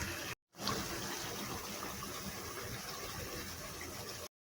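Water poured steadily into a pot of chicken curry, a continuous close gushing splash that breaks off briefly at the start, then flows on until a sudden stop.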